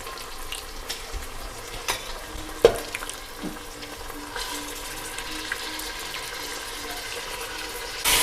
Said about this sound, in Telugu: చికెన్ నూనెలో బాగా వేగాలి, మీకు అప్పుడే ఫ్లేవర్ వస్తుంది.